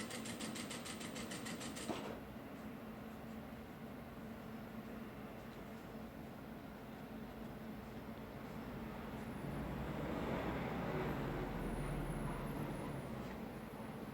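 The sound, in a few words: sewing machine stitching fabric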